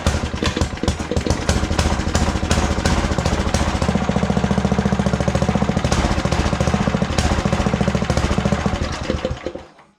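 A Craftsman 17-inch rototiller with an Intek engine and a dirty carburetor runs loudly and close, a rough, knocking drone with uneven pulsing that holds steady, then cuts out at the end.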